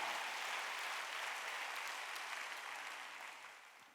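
Many hands in a church congregation clap steadily during a Wednesday worship service, a dense, continuous patter that gradually fades toward the end, with no voices on top.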